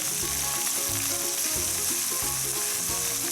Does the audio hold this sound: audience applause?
no